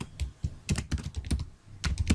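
Quick bursts of typing on a computer keyboard while writing code, close and crisp, keystrokes clustered in short uneven runs with brief pauses.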